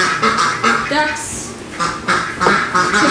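Ducks quack on a farm during feeding before a hurricane, sounding as several loud, close, repeated quacks in irregular bursts mixed with other farm noise.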